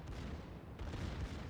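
Battleship gunfire in World of Warships, heard as faint, distant heavy booms with a rumbling low end, two swells of sound a moment apart.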